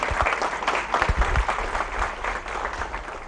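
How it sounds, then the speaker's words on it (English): A hackathon keynote crowd gives a round of applause, with close, uneven hand claps standing out over a broad wash of clapping that swells and eases throughout. "Let's give a huge round of applause to this gentleman."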